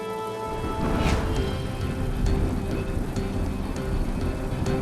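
Heavy rain pours down steadily, a dense hiss of drops drumming on surfaces with no letup, close and loud throughout.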